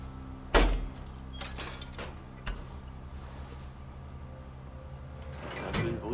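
Sliding doors in the sci-fi horror game Alien Isolation open with a sharp mechanical clunk followed by a long, low whirring grind, and a second faint rumbling movement near the end, all fairly quiet.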